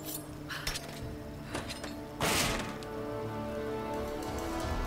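Rain falling in the video game Rise of the Tomb Raider, a steady broadband hiss with scattered drops and a sharper burst partway through, continuing without talk.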